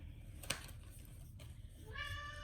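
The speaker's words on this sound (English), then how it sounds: "one of my kitty cats is in the background saying hello" A pet house cat meows once near the end, a short tonal call heard faintly in a quiet room, preceded by a small tap.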